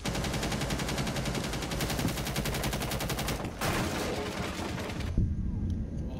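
Rapid automatic gunfire from a first-person shooter round, dense bursts of shots running continuously, then a sharper volley before cutting to quieter game ambience.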